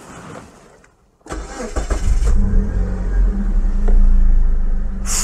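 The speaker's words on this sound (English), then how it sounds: "This starter motor sounds exactly like a certain Ford Fairmont's." A 2001 Mazda 626 starter motor cranks the engine after a brief near-silent pause. The engine catches and settles into a close, steady running hum.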